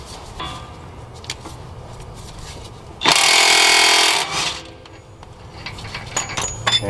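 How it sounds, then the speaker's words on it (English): A short burst of a power impact tool hammering for about a second and a half, breaking loose a Honda Accord axle nut, surrounded by quieter clinks and workshop clatter. "I'm going to go ahead and break this nut loose now."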